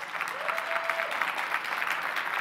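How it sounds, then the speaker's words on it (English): A conference audience claps together in a steady, even round of applause, dense and moderately loud throughout, with a short tonal whistle or feedback tone partway through. "So give yourselves a round of applause for that."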